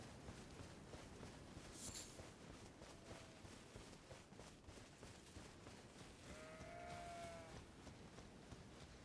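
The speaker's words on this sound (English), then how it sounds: "Oh, it's a sheep." A sheep bleats in the video game Elden Ring: a faint, short bleat stands out once near the end over a soft, steady game background, with no talk.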